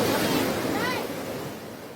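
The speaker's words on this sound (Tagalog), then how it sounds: "Kabi-kabilang flash flood ang nanalasa sa ilang bahagi ng Sultan Kudarat dahil sa malakas na ulan." Floodwater from heavy rain rushes through an area of Sultan Kudarat, a broad, steady roar of water that fades slightly over two seconds.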